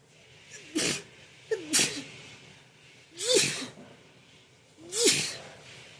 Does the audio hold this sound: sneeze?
yes